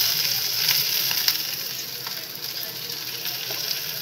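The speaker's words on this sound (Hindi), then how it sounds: "हमारी भिंडी फ्राई हो रही है" Okra fries in hot oil in a kadhai, giving a steady, close sizzle with faint scraping clicks from stirring, no voices over it.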